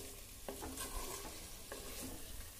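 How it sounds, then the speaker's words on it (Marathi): Eggs sauté in masala in a pan, with a soft sizzle under a few scraping stirs of a spoon, close and fairly quiet, with no voices. "एक 2 मिनिटं मसाल्यात अंडी परतायची."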